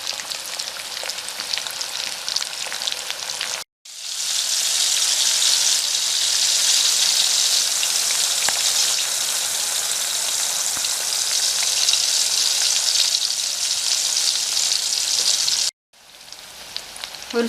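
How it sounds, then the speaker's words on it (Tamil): Tuna fish slices sizzle in hot oil over a medium flame for a South Indian style fry, giving a loud, continuous crackle. The frying sound breaks off briefly twice, with no talking. "மீடியம் ஃப்ளேமில் வச்சு நல்லா ஃப்ரை பண்ணி எடுத்துக்கலாம்"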